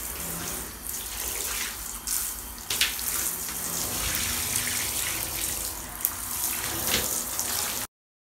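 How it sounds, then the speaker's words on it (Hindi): Tap water running into a bathtub as it is rinsed during house cleaning, a steady close splashing flow with brief louder gushes, cutting off abruptly near the end. "यहाँ पर मैं बाथ टब जो है वो पानी से अच्छे से क्लीन कर रही हूँ"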